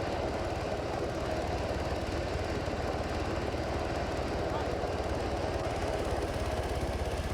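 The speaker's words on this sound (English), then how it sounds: "Let the chopper take off for a second." Helicopter lifting off in the video game Ghost Recon Advanced Warfighter 2, a steady loud rotor and engine roar that holds without a break for the whole stretch.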